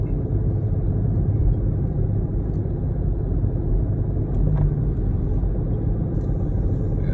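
Dodge Charger R/T engine running with a knocking fault below about 2,000 RPM, heard as a steady, loud, low rumble with a continuous rough texture. No distinct separate knocks stand out.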